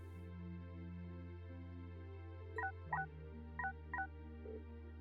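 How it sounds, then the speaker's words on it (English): A theme from the game Trails of Cold Steel, a bright, chirpy electronic melody like a phone ringtone, with short beeping notes over a steady sustained background tone, playing alone. "I think about that damn song that plays every time. It sounds like a fucking ringtone"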